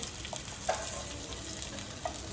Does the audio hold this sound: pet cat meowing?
no